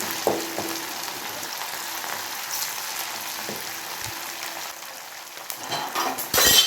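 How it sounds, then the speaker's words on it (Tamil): Cauliflower florets deep-fry in hot oil for chilli gobi, a soft steady sizzle with a few metal utensil clinks and taps against the pan, close by, swelling louder near the end. "அதனால் இது போல் பிரித்து ஒன்றா போட்டு பொரிச்சு எடுங்க"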